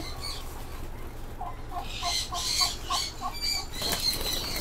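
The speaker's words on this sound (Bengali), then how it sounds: "দেখেন ময়ূরগুলো কেমন ছুটাছুটি করতেছে" Peacocks scurry about and beat their wings in a bird enclosure, several sharp flapping bursts close by, mixed with clucking bird calls and rustling.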